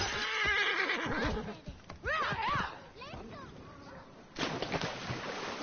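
A horse whinnies loudly several times amid clattering hooves and game sound effects in Assassin's Creed Origins, with a voice talking over parts of it.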